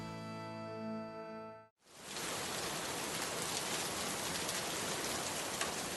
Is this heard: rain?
yes